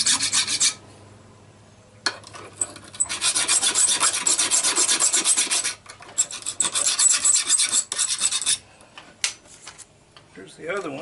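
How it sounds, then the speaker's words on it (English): A metal ferrule for a woodturned scratch awl is rasped across a file in several bursts of harsh scraping strokes, close up, with short quiet gaps between them. "So I'll just take my ferrule and run it across my file a little bit."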